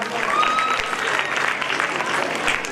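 Loud clapping from a crowd at a quiz competition, sustained and dense, with voices faintly mixed in.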